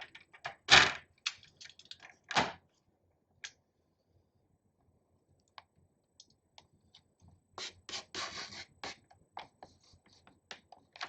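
A blade scores through card along a guide, giving sharp scratchy strokes in short bursts with quiet gaps between them, close and alone.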